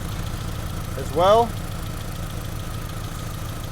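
A 2001 Honda Civic engine idles steadily during a cylinder power balance test, a low continuous hum running throughout, with a brief voice speaking over it midway.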